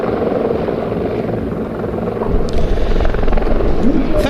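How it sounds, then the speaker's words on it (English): A Czech Police Bell 412 helicopter departs at an air show, its steady rotor and engine rumble filling the scene and growing slightly louder partway through, with faint crowd noise underneath. "The Czech Police Bell 412 that we saw earlier on is departing"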